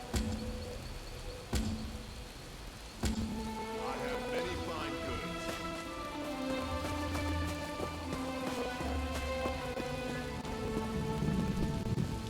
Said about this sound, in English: I need someone with whom to take a stroll in this lovely rain.